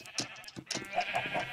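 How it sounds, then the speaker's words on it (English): Sheep on a Minecraft-style game server farm bleat several times in quick succession, close and fairly loud, with no talk over them. "we have a lot of sheep"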